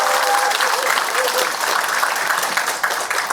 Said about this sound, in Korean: 사실은 박수 한번 치시죠